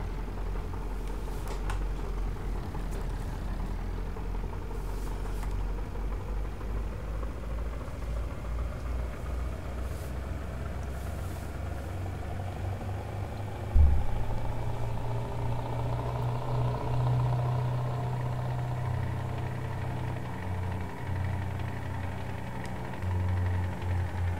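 A heavy truck engine in Landwirtschafts-Simulator 19 drones steadily, its pitch climbing slowly as it accelerates, with a low rumble throughout and a thump partway through.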